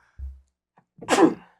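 A single person sneezes once, close and sharp, after a soft breathy intake.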